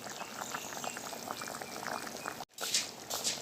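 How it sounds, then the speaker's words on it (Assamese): A pot of gram-flour paneer curry with jackfruit seeds boils steadily, its close bubbling and simmering continuous, with a brief dropout near the end before the bubbling resumes. "এতিয়া উতলিবলৈ দিছোঁ আৰু উতলিলে হৈ যাব।"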